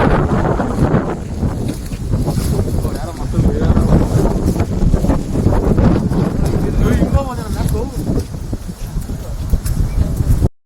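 Strong wind buffets the microphone in a constant heavy roar, with faint voices partly buried beneath the gusts.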